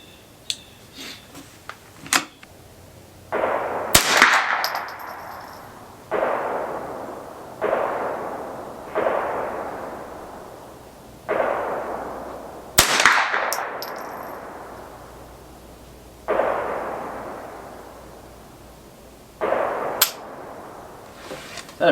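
A Ruger 10/22 .22LR rifle fires shot after shot of Federal rounds at a range, sharp cracks each followed by a quick ringing decay, with a few louder metallic clangs mixed in.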